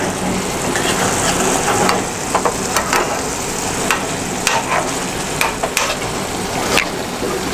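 Drumstick coconut curry being stirred in a hot pan, giving a steady close sizzle and bubbling with scattered scraping clicks from the spoon, and no talk over it.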